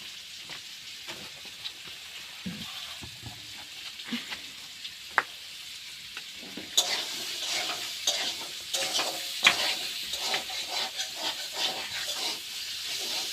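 Potatoes frying in a pan in a village home kitchen, with a steady crackling sizzle, occasional stirring clatter and sharper pops that grow busier in the second half.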